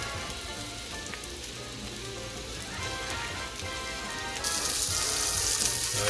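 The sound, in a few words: vegetables popping and sizzling in pot for gumbo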